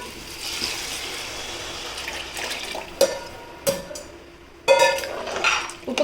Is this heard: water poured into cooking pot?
yes